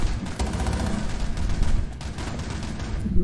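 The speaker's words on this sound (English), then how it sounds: "Who's shooting?" Dense gunfire in Rainbow Six Siege, rapid overlapping shots rattling steadily throughout at close range with no voices over it.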